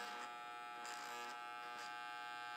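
A Wahl electric hair clipper hums with a steady, fine buzzing motor tone, quiet and constant, with slight fluctuations.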